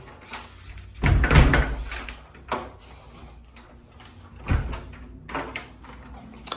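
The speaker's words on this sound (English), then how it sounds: "Right here in through the front door." A front door of a condo unit in Orlando, Florida opens, giving a solid thump and rattle around the first second, then a second bump a few seconds later, with softer handling clicks between, fairly close in a quiet room.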